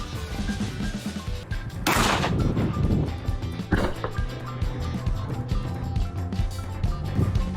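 A Beretta 1301 shotgun fires slugs in close-up burst fire: loud sharp blasts break through a dense, busy background with a steady low hum.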